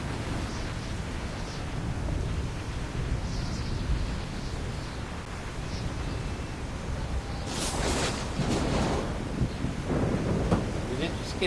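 A thunderstorm rages at sea in Assassin's Creed 3, a low rumbling wash of wind and rain with a sharper crackling burst of thunder near the end, steady and fairly soft throughout.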